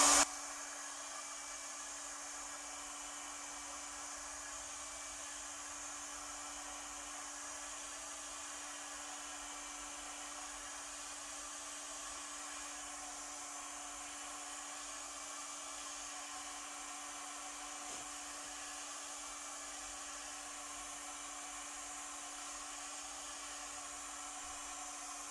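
A hot air gun blows steadily for the whole stretch, a constant airy roar with a fixed whine, heating a sheet of plexiglass so it can be bent into a rain cover for a door intercom; no one speaks.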